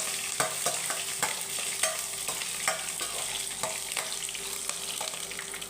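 Garlic and ginger fry in a hot pan for rotti chutney, a steady close sizzle broken by repeated sharp scrapes and taps of a spoon stirring, with no talk.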